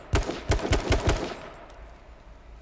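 A quick burst of about five sharp gunshots in the video game H1Z1, moderately distant, then fading into quiet background noise.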